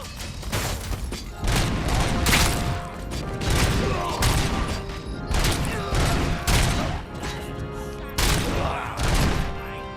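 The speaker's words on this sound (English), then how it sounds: "Headshots are pretty loud. Like, that's quite loud." Heavy gunshots in RoboCop: Rogue City crash out in loud, booming volleys every second or so, each with a thick rumbling tail over constant metallic clanking and background combat noise.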